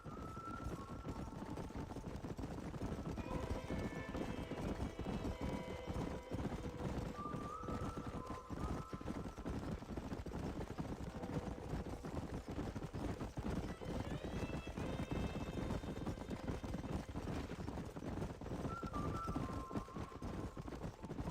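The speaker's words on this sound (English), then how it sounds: "There's the horses!" Horse hooves clip-clop in a quick, steady galloping rhythm in the video game Red Dead Redemption, over a constant background with tonal music, with an occasional horse whinny, moderately distant.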